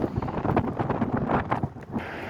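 Steady gusting wind buffets the microphone on the Mountains-to-Sea Trail near Ward's Creek crossing, a rough continuous roar that swells and dips over a couple of seconds.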